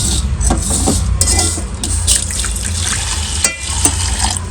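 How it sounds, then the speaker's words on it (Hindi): Water poured into a pan of heavily spiced Maggi noodles gives a continuous splashing, hissing rush that stays close and fairly loud, with no talking. "गाइस अभी हम लोग इसमें पानी डालेंगे।"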